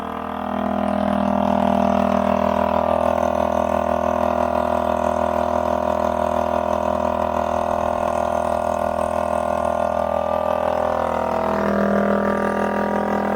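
A rebuilt 70cc Chinese quad engine runs steadily close by, a continuous buzzing drone that holds level, then rises in pitch near the end as it revs, with no talking.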